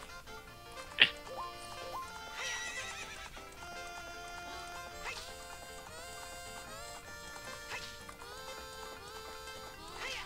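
Horse in the video game The Legend of Zelda: Ocarina of Time: a sharp whinny near the start and repeated hoof clip-clops over steady game music.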